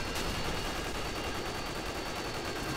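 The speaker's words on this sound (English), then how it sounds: "They're shooting it with bullets." Sustained gunfire from Modern Warfare 2 in an Afghan ground war match, a dense, continuous stream of shots that stays steady and loud throughout.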